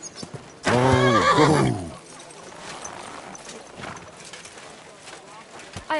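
A horse in the Kingdom Come Deliverance 2 game whinnies loudly up close and then clip-clops along at a steady walk with quieter hoofbeats, while someone briefly speaks.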